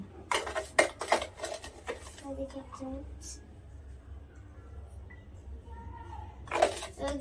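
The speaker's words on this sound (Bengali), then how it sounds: "হ্যাঁ, নুনটাকে ভালো করে গুলতে হবে।" A spoon clinks against a glass while salt is added to a glass of water, with sharp metallic taps and stirring near the start and again at the end, and a low steady hum underneath.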